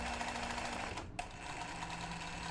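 Sewing machine stitching a zigzag in free motion embroidery to up-cycle clothing, a steady close mechanical whir with a brief pause near the middle before the needle resumes.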